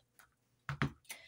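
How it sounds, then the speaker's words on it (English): Tarot cards shuffled close by in a quiet room, a few brief crisp ticking flicks and riffles, two sharper snaps near the middle and a lighter rustle after. "And one more shuffle."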